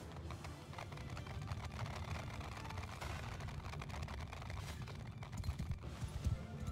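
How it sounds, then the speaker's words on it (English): Cavalry horses charging across a battlefield in Mount & Blade II Bannerlord, a dense, steady rumble of many hooves with clattering, building slightly louder toward the end, with no talk over it. "Horses just charge straight away."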